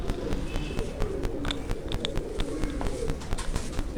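Pigeons coo in low, rumbling bursts close by, with a dense murmur of birds and a few sharp chirps scattered through the short stretch.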